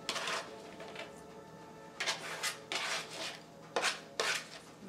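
Artichokes being rubbed with seasoning face down in a baking dish: bursts of dry, scratchy rubbing and light scraping against the dish, close and fairly loud, separated by quieter pauses with no talk.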